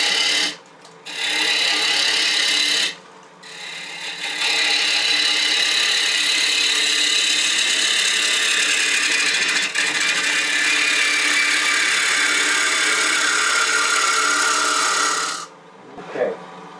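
Wood lathe tool shaving and reshaping a spinning wooden bowl, a steady bright scraping hiss that runs nearly continuously, with short breaks where the tool lifts off.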